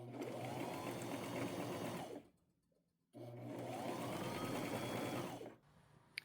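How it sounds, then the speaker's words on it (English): A sewing machine zigzag stitches a black lace purse, humming in two steady bursts of a few seconds each separated by a short pause, close and clear. "I'll just go to my machine, start, zigzag stitch all the way to 1 inch from the top over here."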